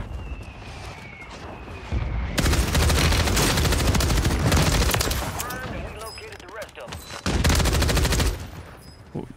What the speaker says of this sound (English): Why is this guy shooting his body?